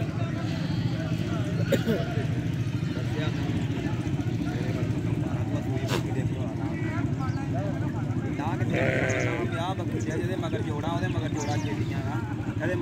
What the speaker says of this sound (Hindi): गबन बकरी